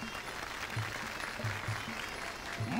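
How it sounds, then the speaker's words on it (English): An audience claps at an ancient Thai boxing stunt show at a municipal school, faint, steady applause heard from a distance with low rhythmic thumps underneath. "Since everyone is clapping, I clapped."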